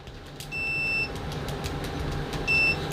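Continuity test on an ALLSUN EM420B budget multimeter with stock probes: two short, high-pitched electronic beeps about two seconds apart, each lasting around half a second, clear above low background hum.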